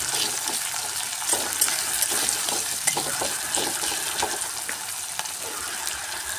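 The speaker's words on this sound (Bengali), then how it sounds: "এরপর আমি এখানে দিয়ে দিলাম 2টো মাঝারি সাইজের পেঁয়াজ কুচি। পেঁয়াজটাকে একটু লাল লাল করে ভেজে নেব।" Two medium onions, chopped, frying in a pan for a cabbage and chana dal curry: a steady bright sizzle with scattered crackles and occasional stirring scrapes, close and continuous.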